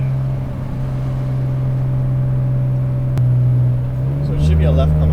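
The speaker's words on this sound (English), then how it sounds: "You get a little bit of a spool out of it, which is fun" A 600HP single-turbo Nissan 350Z engine drones steadily from inside the car, holding a constant tone before the pitch climbs near the end as the turbo spools with a faint whistle.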